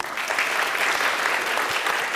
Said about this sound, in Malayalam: ഒരാൾ ടൈറ്റിലാണെന്ന് പറയുമ്പോൾ കൈയടിക്കാൻ മാത്രം എന്ത് ഇവിടെ ഉണ്ടായത്